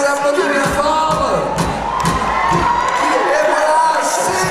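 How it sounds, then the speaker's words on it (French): Audience at the Miss Houblon 2013 pageant, a loud, continuous wave of cheering, whooping and shouting from a close, dense crowd that sustains throughout. "C'est parti et on les applaudit bien fort."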